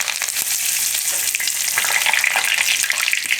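Cloves, bay leaves, star anise, red chilies and curry leaves sizzle loudly in hot oil for a chana palak curry, a dense, close crackling hiss with faint stirring.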